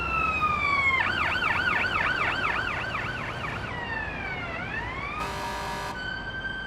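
An electronic ambulance siren in the game Ambulance Life: A Paramedic Simulator cycles through a fast yelp, then a slow falling wail, then a short buzzing horn blast, loud and continuous with no voices.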